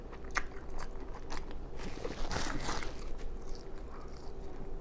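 Close, soft crunchy chewing of a Five Guys burger in a mukbang, with wet bites and smacking in an irregular rhythm, quiet and without talk.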